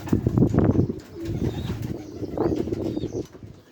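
Pigeons in a loft, including a powerful local Bangladeshi breed, flap their wings in several bursts of fluttering, close and moderately loud, alongside soft cooing.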